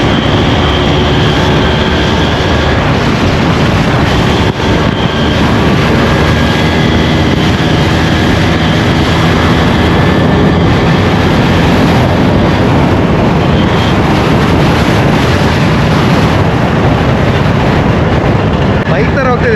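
An Mvman scooter ridden at speed, carrying a loud, steady roar of wind and motor noise with no letup, with voices faintly present underneath.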